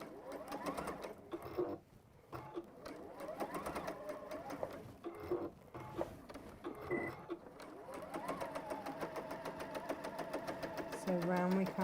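A home sewing machine stitches around a corner of fabric in short whirring runs, pausing briefly as the presser foot is lifted and the fabric readjusted, with someone talking over the close mechanical hum.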